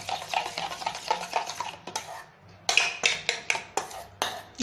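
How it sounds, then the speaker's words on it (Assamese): Eggs with chopped onion and chili are beaten in a bowl, a fast run of clinking and tapping strokes against the bowl that pauses briefly midway before resuming in quick bursts. "দি পেলাই এইখিনি ধুনীয়াকৈ ফেটি পেলাম।"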